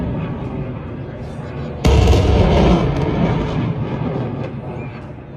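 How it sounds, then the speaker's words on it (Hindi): An Akash missile is fired at night: a sudden loud roaring blast starts abruptly and then trails off into a long rushing rumble that slowly fades, with a low murmur before the launch. "ये है, देखो, नाइट फायरिंग हुई है आकाश मिसाइल की।"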